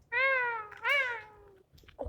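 A cat meows twice in quick succession at modest distance in a quiet indoor setting, each call rising and falling in pitch, followed by a few faint stray noises.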